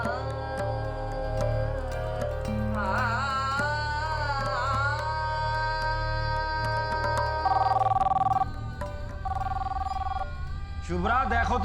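A telephone rings in two short electronic bursts partway through, over background music and people talking.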